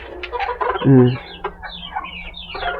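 A young rooster and three hens cluck nearby in short overlapping calls, with one louder, drawn-out squawk early on, over faint background noise.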